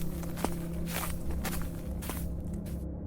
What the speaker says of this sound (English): I heard soft footsteps circling the house.